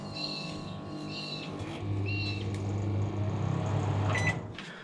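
Microwave oven powered through a 2000W inverter starting up: a few short chirping beeps, then a steady low hum kicks in and keeps running with faint clicks, close by.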